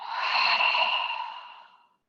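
A deep, slow exhale during a guided yoga breathing exercise, a soft breathy rush that swells early and fades out over about two seconds, close and alone without talk.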